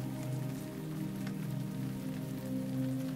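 Soft, steady patter of rain tapping against windows of a thatched-roof house, heard quietly alone beneath a low, constant tonal hum.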